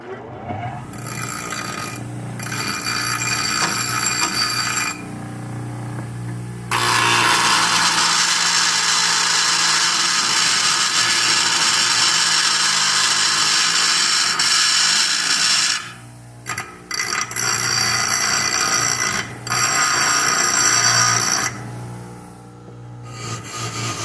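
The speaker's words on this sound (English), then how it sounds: "We're going to clean this up on the grinder." A bench grinder cleans up a metal oil priming tool for a Chevy engine, its loud steady whine rising as the part is pressed to the wheel, with brief pauses and changes in pitch between passes.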